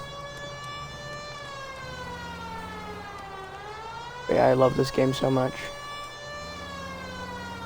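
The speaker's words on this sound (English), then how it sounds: "Why does it sound like a baby crying, the sirens in this game?" A police siren in the video game L.A. Noire rises and falls continuously in the background while a person speaks briefly over it.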